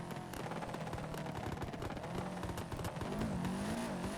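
Exhaust on a burble-tuned car in FiveM crackles and pops in fast, gunfire-like bursts over a continuous engine drone, with revving rising near the end; no voices.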